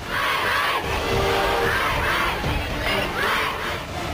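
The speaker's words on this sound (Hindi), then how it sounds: "अस्पताल के बाहर लोगों की भीड़ बढ़ती जा रही थी।" A large, angry crowd gathered outside a hospital shouts and chants in surging, overlapping waves, loud and sustained throughout.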